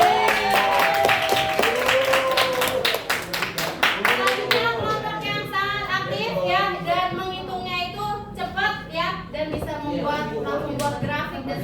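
Children in a classroom clap loudly for a classmate after a biology lesson on the digestive system, a dense burst of hand claps that quickly fades as young voices chatter over it.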